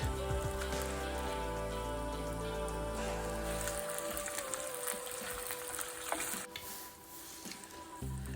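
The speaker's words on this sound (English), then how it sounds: "We add some pine nuts and let them fry for a bit." Pine nuts fry in a hot pan for stuffed vegetables, giving a steady, close, dense crackling sizzle that carries on throughout with no talking.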